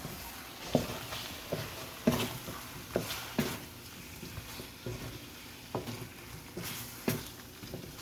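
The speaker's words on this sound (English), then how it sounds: "Okay, and I'm going to give it a stir." Vegetable curry with cumin and coriander powder being stirred in a pan, a steady soft sizzle broken by about a dozen scraping clacks of the spoon at irregular intervals, close and moderately loud.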